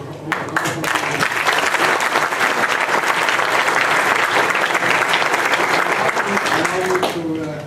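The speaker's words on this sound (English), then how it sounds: "can we have a round of applause?" Sustained applause from an audience in the Donald Gordon Auditorium, dense and steady clapping that swells quickly, holds for several seconds, then tapers off.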